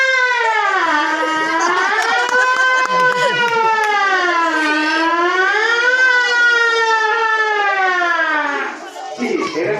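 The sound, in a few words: fire service fire engine siren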